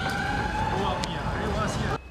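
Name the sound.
fire engine siren arriving at motel fire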